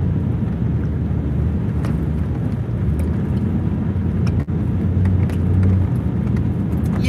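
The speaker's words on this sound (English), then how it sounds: "there's another car over there driving on the lake," A car drives across a frozen lake outdoors, its low engine rumble steady and fairly close, mixed with wind buffeting on the microphone.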